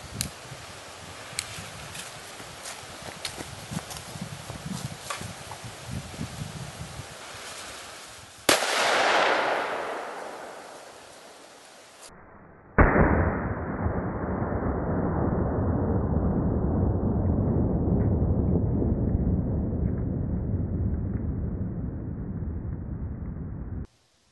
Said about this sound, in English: Test number 1, unshaped 1 gram flash firecracker.